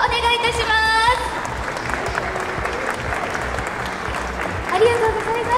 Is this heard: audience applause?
yes